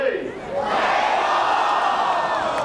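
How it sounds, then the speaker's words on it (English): Fans at a Pacifics baseball season opener cheer and shout as the first batter leads off, a broad steady crowd roar that swells after a moment and stays loud throughout. "crowd getting animated to open it up"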